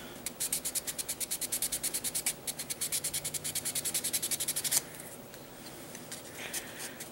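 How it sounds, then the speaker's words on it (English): Wet sanding of a Gundam model kit part held flat, a quick, even series of rhythmic rubbing strokes close up for several seconds, then stopping and leaving softer, scattered scraping. "I'm going to use this to keep it flat, and I'm just going to sand it down."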